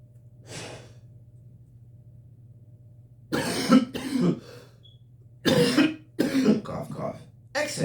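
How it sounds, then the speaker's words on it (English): Two separate bursts of harsh, close coughing break a quiet stretch, each a rapid cluster of hacks with a faint breath before them. "Cough, cough."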